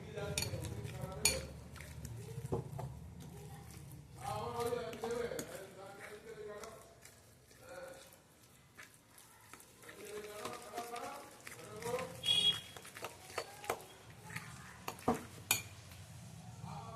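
Lentil and egg batter is stirred and beaten in a bowl, with soft, uneven clinks and scrapes of a utensil against the bowl close by, under frequent talking.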